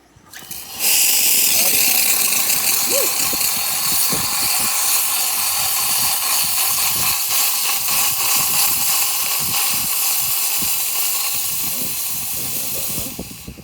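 A loud, continuous steam hiss from a freshly serviced espresso machine's steam wand, running for over ten seconds with faint background sounds underneath.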